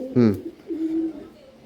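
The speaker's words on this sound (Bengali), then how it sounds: "পাঠা পায়রা।" A male Regdar pigeon gives a short, close, low coo that rises once and then trails off into a softer drawn-out note.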